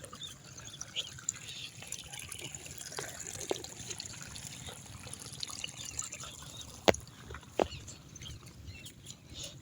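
Light rain drizzles over a freshly sown paddy field in Sri Lanka, soft patter and scattered drips with a couple of sharper taps, steady and faint against a quiet outdoor background.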